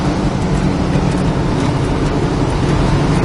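A 1965 Pontiac GTO drives down the road, giving a loud, steady engine and road roar close by, with no talking.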